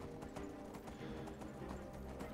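Horse hooves clip-clopping in the game Beyond Skyrim, a quick steady rhythm of hoofbeats under a low ambient bed.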